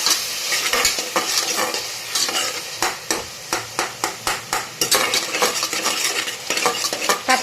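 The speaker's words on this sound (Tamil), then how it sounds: "நல்லா மிக்ஸ் பண்ணி விடுங்க." Turmeric and asafoetida are stirred into tomatoes frying for rasam. A spoon scrapes the pan in a fast run of sharp strokes over a constant sizzle, close and loud, with no voices.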